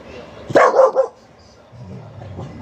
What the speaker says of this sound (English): she hears somebody, so she has to bark